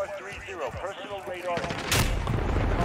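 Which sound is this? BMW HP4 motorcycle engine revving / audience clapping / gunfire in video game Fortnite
gunfire in video game Fortnite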